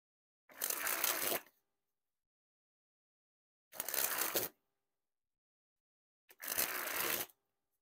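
Three separate bursts of a brand new Bicycle Unicorn playing card deck being sprung from hand to hand, each a close, rapid riffling flutter of about a second, with silence between.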